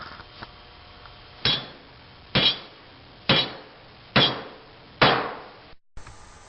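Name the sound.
hammering nails into wooden bird feeder perches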